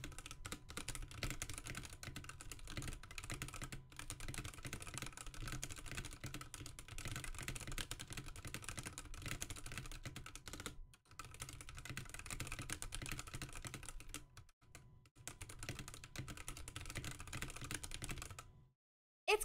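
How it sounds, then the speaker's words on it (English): Computer keyboard typed on as keyboard ASMR: quick, continuous key clicks in close, dry detail, broken by a few brief pauses near the end. "Let's do a bit of keyboard ASMR."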